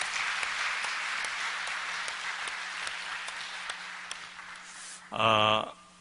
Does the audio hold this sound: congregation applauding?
yes